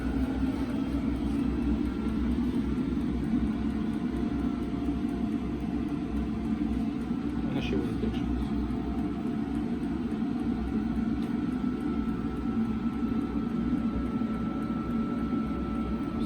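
A home heating turbine runs steadily and blows air with a constant loud whooshing drone and a low rumble that stays even throughout, with no speech.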